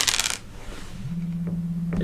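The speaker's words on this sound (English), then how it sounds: "And when we do roll the dice" Several small D4 pyramid dice rattle and clatter together in a quick burst, then settle with faint taps, heard alone without talk.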